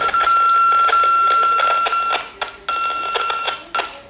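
A Weierwei UV-338+ 5W handheld radio gives a loud, close receive tone that holds steadily for about two seconds, then breaks into short beeps and clicks.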